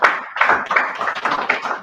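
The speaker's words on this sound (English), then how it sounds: "Please, round of applause" A brief round of clapping from a small group at a talk event, a few uneven bursts of close hand claps over under two seconds.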